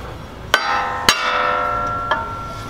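A hammer strikes the seized brake rotor of a 2017 Ford F450 three times, each sharp metallic tap followed by a bright, lingering ring, with no talking.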